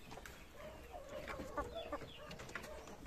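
A hen clucks in a backyard coop, several short, close cackling calls in an irregular series over steady low background noise, with no talking.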